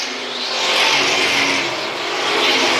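Race cars roar around an oval track during a championship race at the Fall Spectacular, a loud continuous engine drone that swells and fades as the cars accelerate out of the corner.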